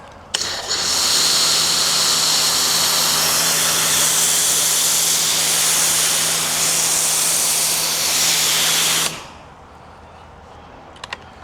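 A pressure washer with a foam cannon attached runs in a single continuous burst lasting about eight seconds. It makes a loud, broad spraying hiss over a steady motor hum, then cuts off abruptly into quiet.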